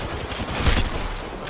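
Rapid gunfire crackles in a video game firefight, a short, dense burst of shots with a brief louder peak near the middle.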